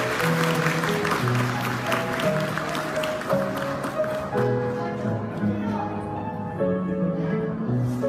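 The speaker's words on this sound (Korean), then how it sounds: "박수 부탁드리겠습니다." Wedding guests applaud during the cake-cutting while a melody plays through the hall, and the clapping sounds as a busy patter under the music for several seconds.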